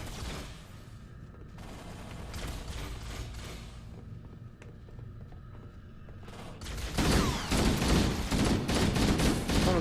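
Human weapon gunfire in the video game Halo, distant crackling fusillade through ongoing game ambience that grows into louder, denser sustained firing toward the end.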